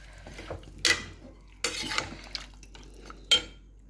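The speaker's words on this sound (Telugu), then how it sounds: "ఇది మసాలాలో వేద్దాం వేసి బాగా కలబెట్టేసి మిక్స్ చేసేసి" Mutton being stirred into masala in a pot, with a few distinct scraping clatters of a spoon against metal and softer stirring in between, close and fairly quiet.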